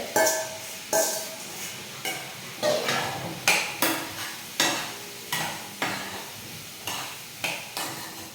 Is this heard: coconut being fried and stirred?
yes